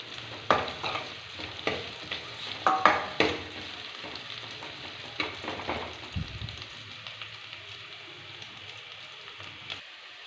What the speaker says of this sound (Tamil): வெங்காயத்தோட பச்சை வாசனை போகிற வரைக்கும் நல்லா அதை வதக்கிக்கலாம்.